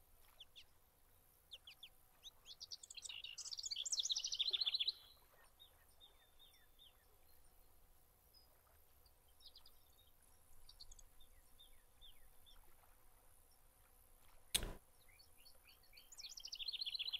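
Birds call in a Fishing Planet fishing scene, a short burst of chirping and twittering early on, then sparse faint calls over quiet outdoor ambience, one sharp click, and more chirps returning at the end.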